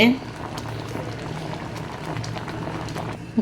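A pot of milk dumplings bubbles at a rolling boil, close and steady, with soft popping and gurgling throughout.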